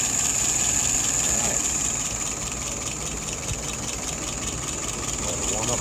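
A small aircraft engine on a WO 539 idles steadily with a throttle set low, a continuous droning rumble with a high whine, loud and even throughout, with voices speaking over it.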